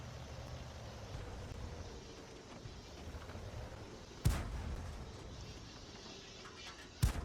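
Two sharp, booming tank cannon shots in World of Tanks, about three seconds apart, each with a heavy low thump and trailing rumble over a steady engine and ambient drone; no one speaks.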